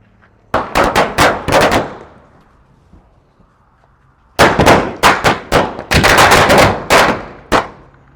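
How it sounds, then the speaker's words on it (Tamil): Diwali firecrackers bursting outdoors in two loud volleys of sharp, rapid bangs, a cluster of about ten cracks, a pause of near quiet, then a longer dense run of overlapping explosions. "பாருங்க பட்டாசு வெடிக்க ஆரம்பிச்சாச்சு."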